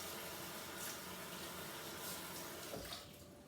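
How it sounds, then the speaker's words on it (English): A kitchen tap runs steadily while hands are washed beneath it after handling egg, a close continuous rush of water that drops and quiets near the end. "And now that I've touched egg, I'm also going to wash my hands."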